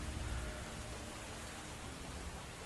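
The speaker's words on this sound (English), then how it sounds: "Yourself exposed to the elements under a heavy thunderstorm in the dead of night. With a high wind and a steady downpour" Heavy thunderstorm downpour in a night-time video game scene, with high wind: a steady, dense wash of rain noise fills the whole clip at an even level, with no distinct thunderclap and no talking.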